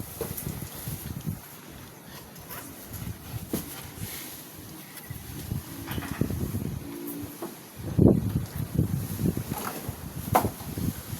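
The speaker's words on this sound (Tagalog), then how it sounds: "pagaspas ng hangin. Ang lakas." Strong wind buffets the microphone in rumbling gusts in Dingalan, Aurora, rising and falling with rustling, and growing louder toward the end.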